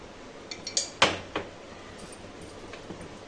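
Spoon scraping and clinking against a pan while a sweet mixture with ghee is stirred, a few sharp metallic taps clustered early, then softer scrapes over a low steady background.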